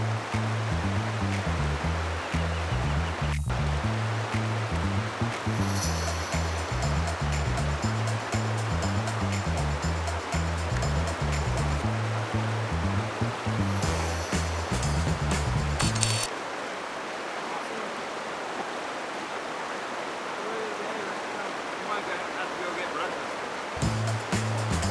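River water rushes steadily where a fly angler fishes for trout in Colorado, a continuous broadband wash with a low rhythmic rumble underneath that drops out past the midpoint and returns at the end.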